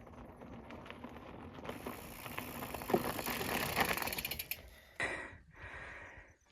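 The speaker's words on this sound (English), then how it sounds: "All right, going for a bike ride." An e-bike freewheel ratchet ticks in a fast, steady run of mechanical clicks, with rolling and patter noise close by, before stopping abruptly with a couple of clunks.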